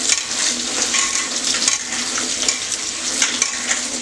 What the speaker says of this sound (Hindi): इस तरह से हम साग को धोएंगे